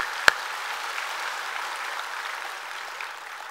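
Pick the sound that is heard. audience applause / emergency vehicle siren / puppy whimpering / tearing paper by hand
audience applause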